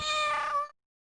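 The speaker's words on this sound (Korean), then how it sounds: "고양이가 말을 하잖아!" A single cat meow, close and clear, rising then fading over about half a second before silence.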